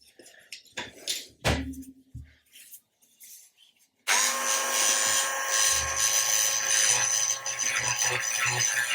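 Plastic parts of a 1/35 Hobby Boss GMC Bofors 40mm gun model being worked with a power tool: a few scattered knocks, then a steady, loud, high whine of a rotary sander running continuously to the end.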